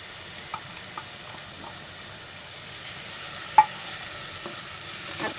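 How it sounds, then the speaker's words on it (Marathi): Tomato paste frying in a pan on high heat for a palak paneer gravy, a steady soft sizzle with a few light clinks of the stirring spoon, one sharper knock near the middle, no talking. "आता त्याच्यामध्ये आहे ना ही टोमॅटोची पेस्ट टाकते"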